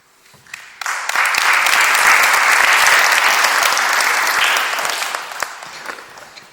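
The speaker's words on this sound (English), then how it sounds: "give yourself a pat on the back and a round of applause" A school audience at an intermediate school Veterans Day program breaks into loud, sustained applause, swelling quickly after a quiet start, holding steady for several seconds, then tapering off.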